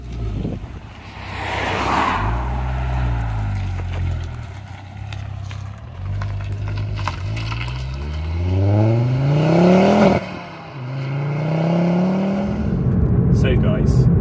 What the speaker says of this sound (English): driving my Mark II Focus RS